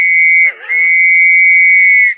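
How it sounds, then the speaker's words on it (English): A conductor's train whistle blown hard and loud at close range, one short blast, a brief break, then a long sustained shrill tone. "Oh, he's got the whistle"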